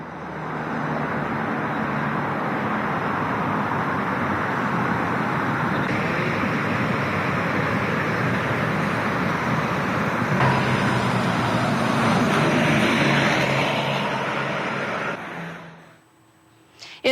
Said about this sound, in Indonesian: seperti apa situasi lalu lintas di gerbang tol Cikatama Karawang, Jawa Barat